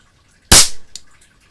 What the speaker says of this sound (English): that's about all you really need for an air pistol